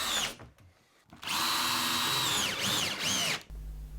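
A power drill driving a screw to fix a wooden batten to a wall for a garden room interior: brief bursts, then a long steady whine with a few pitch dips as the screw bites, loud and close.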